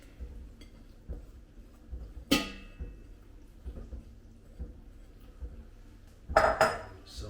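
Green tomato chutney ingredients, tomatoes and onions among them, tipped into a metal pan: two sharp clattering bangs of food and utensil against the pan amid quiet kitchen knocks, with no talking.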